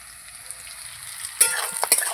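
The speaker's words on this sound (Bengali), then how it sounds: "আমি আলুগুলোকে আরেকটু লাল লাল করে ভেজে নেব।" Potatoes fry in a pan with a soft, steady sizzle that grows louder partway through, broken by a few sharp crackles and spatters.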